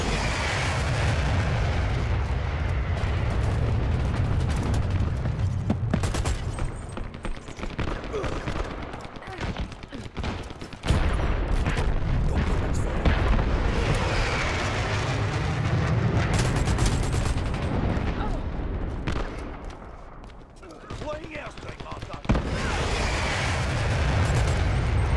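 Fire-support artillery strike in an objective-mode shooter game, a long barrage of loud overlapping booms and rumbling blasts that continues throughout, briefly thinning near the end before resuming, mixed with voices.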